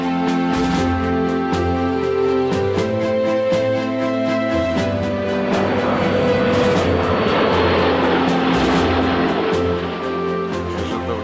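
Airplanes fly at the MAKS 2015 air show, loud jet engines roaring and droning with shifting pitch over a busy, noisy outdoor crowd, rising to a broad rushing roar in the middle as an aircraft passes close.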